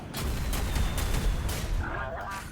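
A Bombard artillery ability fires in a video game, producing a loud, dense run of booming blasts and rumbling impacts that fade toward the end.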